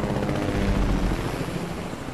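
A helicopter in the video game Fortnite drones close and loud with a steady low rotor rumble, holding constant without a break.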